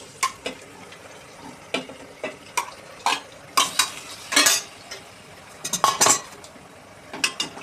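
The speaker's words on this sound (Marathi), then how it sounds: "कांदा आपलं परतून झाला, आता आपण चिकन घालून घेऊ।" Marinated chicken tossed into a pan of browned onion for a home-style chicken handi, with intermittent metal spoon scrapes and clinks against the pan over a faint frying sizzle; no one speaks.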